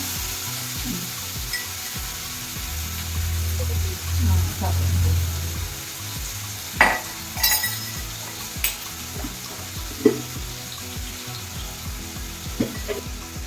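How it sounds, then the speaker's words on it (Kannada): Onions frying in a pan toward light golden brown for an onion egg masala curry: a steady low sizzle broken by occasional scraping and stirring knocks. "ಸೊ ಈ onions light golden brown colour ಬರೋದಂಗೆ ಚೆನ್ನಾಗಿ ಫ್ರೈ ಮಾಡ್ಕೊಳ್ಳೋಣ"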